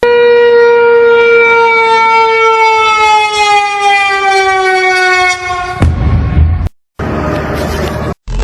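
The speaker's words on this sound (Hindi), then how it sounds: "पाकिस्तान के कई शहरों में सायरन बज उठे" A civil defense siren wails loud and near across a Pakistani city, a long steady rising tone with stacked harmonics that holds for several seconds and then cuts off abruptly, with short bursts of noise and brief silences after it.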